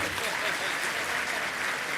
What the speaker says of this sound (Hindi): तो एक बार तालियां तो बजा दो